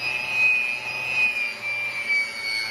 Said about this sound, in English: I might just give it a little blast with this guy, my hairdryer.